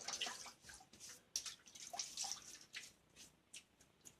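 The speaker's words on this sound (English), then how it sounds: "let me wet my face again" Someone splashes water onto their face over a sink in a series of close, quiet splashes and drips. A few louder splashes stand out, with no talk.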